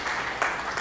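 Brief burst of applause used as a sound effect, a dense wash of clapping that swells slightly partway through and carries on steadily without talk.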